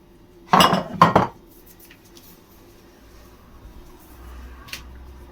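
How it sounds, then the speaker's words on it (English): Knife chopping butter on a board while making short crust pastry for a quiche, two sharp close clunks in quick succession followed by a quieter distant clink and faint background rustle. "Just chop up the butter."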